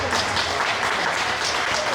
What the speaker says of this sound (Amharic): እስኪ ለራሳችሁ ሞቅ ያለ ጭብጨባ